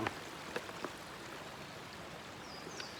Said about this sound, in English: I'm walking across the water now.